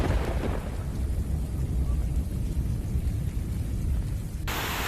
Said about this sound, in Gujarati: ઇંગોરાળા ગામમાં 2 ઇંચ વરસાદ વરસ્યો.